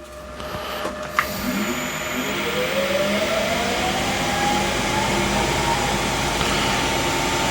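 A wood lathe spins a black maire blank at steady speed, giving a continuous mechanical hum and whir with a rising tonal whine, plus a brief clunk near the start.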